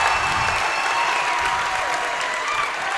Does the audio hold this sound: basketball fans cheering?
yes